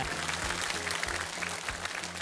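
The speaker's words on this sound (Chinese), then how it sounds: "来掌声给他们" Studio audience applauding on a Chinese TV variety show, a brief burst of many hands clapping, dense and steady, with a faint rhythmic low thumping of music beneath.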